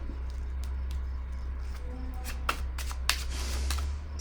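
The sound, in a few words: tarot card being placed down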